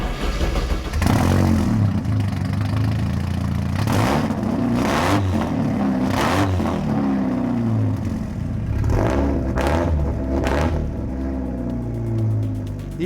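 Porsche 944 Turbo Cup race cars with 3-inch sewer-pipe exhausts at an HSR race, loud throaty engines rumbling and passing one after another with rising and falling revs throughout.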